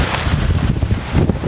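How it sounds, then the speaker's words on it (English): Strong wind gusting across a beach, buffeting the microphone with a loud, continuous low roar and rustle throughout, with no talk. "So if you hear the wind, it's because it is windy"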